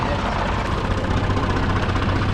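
An ISEKI TA270 27 hp tractor engine runs steadily in gear, a loud, close, continuous low rumble with no gaps across the whole stretch.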